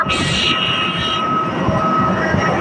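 Loud, steady roar of jet engines close by, a constant rumble with a high whine that fades after the first second.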